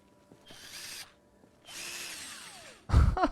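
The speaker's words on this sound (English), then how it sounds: "How do you fight with a cordless drill?" Cordless power drill from the Project Zomboid video game whirring in two separate bursts of about half a second and one second, followed by a louder, harsher mechanical clatter at the end, with no talking.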